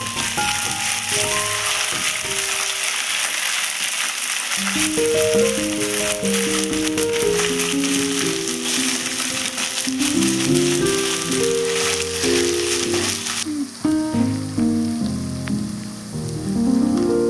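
Ginger-garlic paste, about two spoonfuls, sizzles in hot oil in a frying pan for a brinjal curry, a steady loud hiss throughout with melodic background music playing over it.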